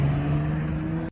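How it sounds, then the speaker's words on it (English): A car drives off outside a home near a mountain, its steady engine drone loud and close for about a second before cutting off abruptly. "As he tries to approach the car drives off."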